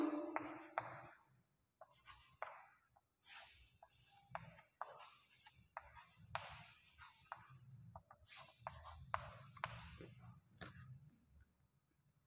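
A teacher draws lines on a board during a class 9 maths lesson on lines and angles, with irregular scratchy strokes in short bursts and pauses, close and quiet, no talking.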